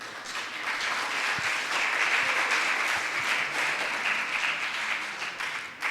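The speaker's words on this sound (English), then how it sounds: "A round of applause for the panelists." Sustained applause from a conference audience for a panel of speakers at a wrap-up session, a steady dense wash of clapping lasting several seconds without a break.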